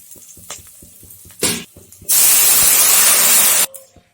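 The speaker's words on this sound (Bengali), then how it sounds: "দেখুন পেঁয়াজ লঙ্কাটা না ভাজা হয়ে গেছে আমি ডালটা ঢেলে দেব" Masoor lentil dal poured into a hot pan of fried onion and green chilli, a sudden loud hissing sizzle lasting about a second and a half after some clinks of utensils, then cutting off.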